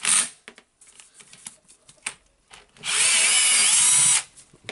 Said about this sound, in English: It's too much load for that drill.